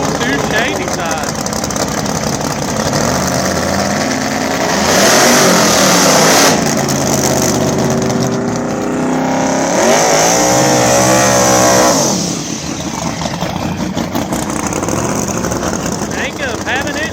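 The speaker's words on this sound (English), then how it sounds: "Jacob having issues, having to try again on the burnout" A drag racing car on 28x10.5 slick tires attempts a burnout at a Shadyside drag strip shootout, its engine roaring loud and sustained, rising into a hard howl midway before easing back, with talking mixed in.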